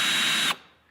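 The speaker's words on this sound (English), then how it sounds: "Here's the Ryobi." A Ryobi cordless drill spinning with a loud, close, steady high whine for about half a second, then cutting off and winding down quickly to quiet.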